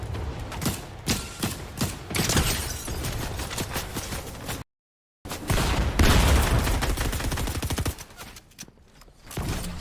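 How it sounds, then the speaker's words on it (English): Shotgun blasts and dense gunfire from a competitive Fortnite match, loud and repeated in rapid bursts with a brief dropout partway through. "They got a really good shotgun shot off on them."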